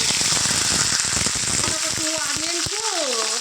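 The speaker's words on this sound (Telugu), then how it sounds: "మీడియం సైజ్ టూ ఆనియన్స్ వేసుకున్నా ఇవి ఫ్రై చేసుకుందాం" Onions and green chillies fry in hot oil for a Telangana-style chicken curry, with a loud, dense, continuous sizzle close by and a voice talking over it toward the end.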